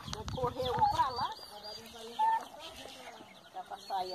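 Young turkey poults and other fowl on a small productive farm in São Bernardo, Minas Gerais, clucking and chirping close by in an irregular chorus, with people talking over them.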